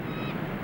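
A single short gull cry by the water, a brief nasal honking call that cuts off partway through, set against a low murmuring background.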